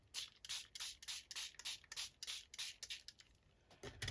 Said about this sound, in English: And then I just spray it with some water.